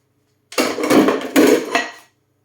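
Dishes, pots and pans clatter and knock together while being washed in a home kitchen, two dense bursts of close metallic and ceramic clanking, with no talking.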